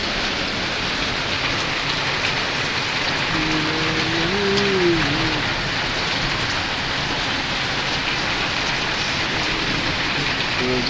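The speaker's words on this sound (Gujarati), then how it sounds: "વરસાદ શરૂ થઈ ગયો પડવાનો" Heavy rain pours steadily over a rural Gujarat farm area, a dense continuous hiss throughout, with a brief passing engine tone partway through and no talk.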